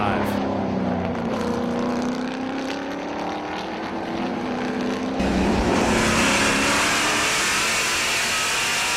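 TA2 race cars roaring past turn 5 at Road America, engines revving loud and close before a sharp burst of intensified engine noise as another car sweeps by.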